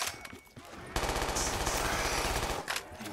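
A PPSh submachine gun fires in a custom Call of Duty zombies map: a loud, rapid sustained burst of automatic fire lasting about two seconds, after some brief quieter shots.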